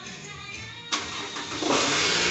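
A cold 2AZ-FE engine in a 2010 Toyota Alphard ANH-20 cranks with a sudden burst, then catches and settles into a steady, loud, close running roar.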